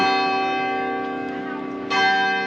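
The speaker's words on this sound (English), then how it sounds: "can hear the bells of the town hall chiming 9:45" Town hall bells chime 9:45, ringing out loudly with a rich, sustained ringing tone; a fresh strike swells the sound near the end.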